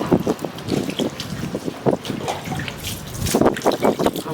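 Water splashing and running beside a village pond, a busy, irregular series of close splashes and gurgles with some wind buffeting the mic throughout.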